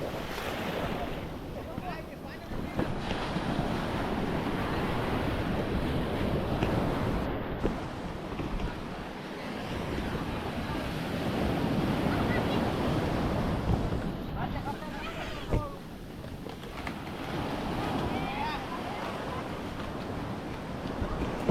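Surf washes onto Om Beach in Gokarna, a steady, loud roar of breaking waves mixed with gusty wind buffeting the microphone.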